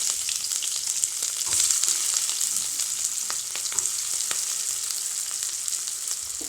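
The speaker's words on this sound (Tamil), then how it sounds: "எண்ணெய் கொஞ்சம் தாராளமாக ஊற்றிக்குங்க அதில் வெங்காயத்தை போடலாம்" Steady oil sizzle and crackle of onions frying in generous oil in a pan for drumstick-leaf stir-fry, continuous and close, with occasional stirring clicks.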